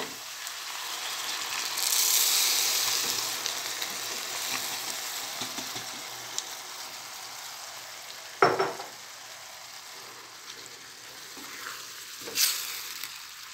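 Jarred beans tipped into sizzling onions and garlic in a pan, then stirred: a steady soft sizzle swells as the beans go in, with sharp clatters of utensil scrapes and knocks later on, no voices.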